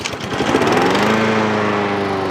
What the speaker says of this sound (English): You think a lawnmower wants to start in 10-degree weather?